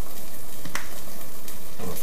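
Tomato puree sizzles loudly in a hot frying pan, a dense continuous hiss close by, with a couple of brief scraping stirs breaking through and no talking.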